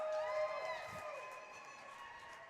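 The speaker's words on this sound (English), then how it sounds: "The crowd goes wild for Corey Ipson." A crowd at an ice hockey championship game cheers and shrieks with high-pitched, sustained voices. The cheering is fairly faint and distant and fades slightly over a few seconds.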